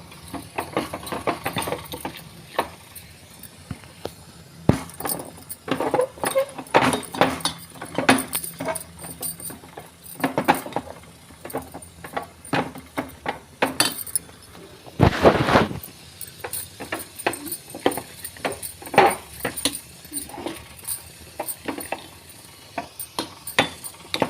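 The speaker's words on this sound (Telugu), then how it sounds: "ఇదిగోండి బాగా కలపాలి దీన్ని, బెల్లం అంతా కరిగిన వరకునండి." Spoon stirring a jaggery mixture in a pan until the jaggery dissolves, with repeated scraping and clinking strokes at an uneven rhythm, close and moderately loud, plus one longer burst of noise midway.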